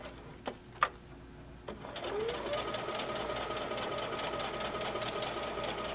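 A sewing machine stitches a quarter-inch fabric seam, starting after a few clicks and then running as a steady, close whirring hum to the end.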